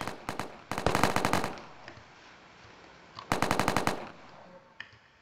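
Rapid bursts of automatic gunfire in the EarthScape Tycoon video game, two loud volleys of quick rattling shots with a few single shots between, then a quiet tail.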